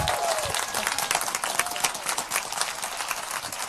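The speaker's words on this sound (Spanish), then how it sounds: "Sí, vamos a darles un aplauso." An audience at a panel presentation on Latin American women artists claps in a dense, continuous round of applause, a bright crackling patter heard up close with no talk on top.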